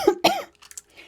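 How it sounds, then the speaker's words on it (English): A person coughs twice in quick succession, close and fairly loud, followed by faint rustling in a quiet indoor space. "I just cough when I talk"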